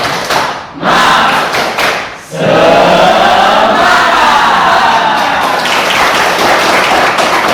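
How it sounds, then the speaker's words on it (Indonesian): A classroom of pupils bursts into loud, unified shouting and clapping for a rhythmic class cheer, a brief dip after the first beats, then a sustained noisy group roar with claps. "Kita coba cek dulu kekompakan kelas ini ya. Tepuk semangat."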